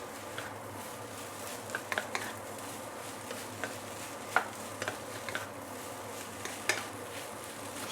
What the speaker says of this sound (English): So while you are sauteing right now, the sausage will actually release some fat, yeah, some oil into your rice